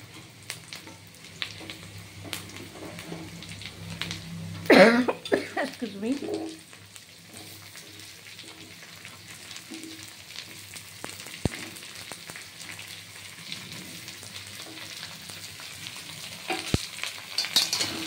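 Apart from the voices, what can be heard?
pumpkin pieces frying and being stirred with onions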